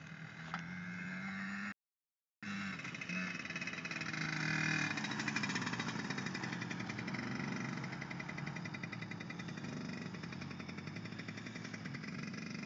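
A small 50cc dirt bike engine buzzes steadily up a hill, with a constant droning hum that swells slightly midway and one brief dropout near the start.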